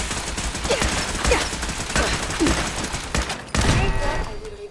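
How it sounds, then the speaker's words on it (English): Gunfire in the game Fallout 4, rapid repeated shots in dense bursts that keep going throughout, loud and close amid the noise of a busy fight. "Returning fire."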